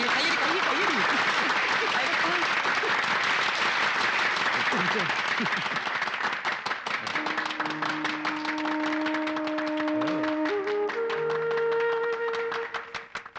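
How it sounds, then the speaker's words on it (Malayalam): A crowd claps in a dense burst of applause that thins into scattered claps, with voices talking and calling over it and a sustained musical tone entering partway through. "കയ്യടി."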